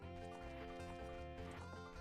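Sounds from Epona, the horse in The Legend of Zelda: Ocarina of Time, come through as a brief neigh mixed with game music and rhythmic hoofbeat-like pulses, lasting about two seconds.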